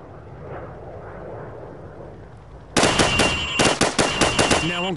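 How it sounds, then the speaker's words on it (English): Rapid hip-fired rifle bursts in Call of Duty 4 at a shooting range, starting after about three seconds of low ambient rumble and then cracking loudly in quick, closely spaced shots. "Now, shoot at the targets while firing from the hip."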